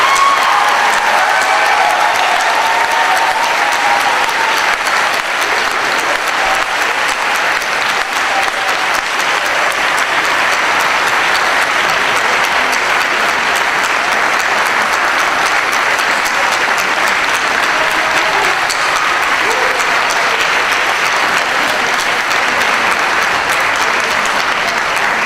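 Sustained, loud applause from a large audience greets graduates at a John Knox Christian School valedictory ceremony, filling the hall evenly with steady clapping and faint crowd murmur for about twenty-five seconds.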